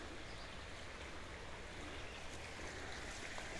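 The Schuylkill River flowing past old railroad bridge remains, a steady, even rushing wash that holds unchanged throughout, moderately distant, with no voices.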